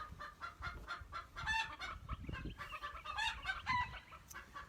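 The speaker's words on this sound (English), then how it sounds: "kind of clucking and throwing a bit of a fit" A hen clucks repeatedly and agitatedly, close by, in a steady stream of short throaty calls with no talking.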